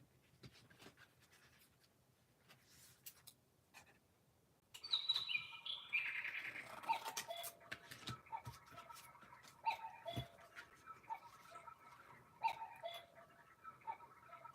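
Pet bird chirping softly in the background of a quiet craft room, with repeated faint tweets and a ticking sound over several seconds.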